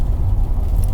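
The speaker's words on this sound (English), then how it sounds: "some car passed by" A car passing by a dealership lot, a steady low rumble and road noise filling the whole second at close range with no talking.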